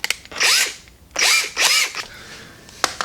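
A 1/2 inch bit boring the threads out of a shift knob during an E30 BMW interior job, with three loud drill bursts separated by short pauses, followed by a sharp click near the end.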